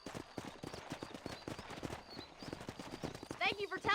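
Horse hooves clip-clop in Red Dead Redemption on PC, a steady, fairly close rhythm of hoof beats running throughout, with voices talking over it and a louder burst near the end.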